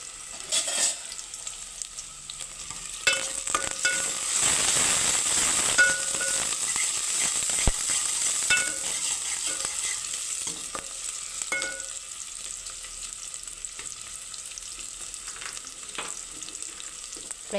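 Onions sizzle steadily in hot oil in a pan, with repeated scraping and clinking strokes of a stirring spoon over the constant frying hiss, close by and with no talk.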